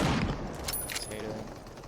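A sniper shot fires in the battle royale game Super People, a sharp burst heard amid a brief spell of game gunfire and mechanical clatter, with talk present.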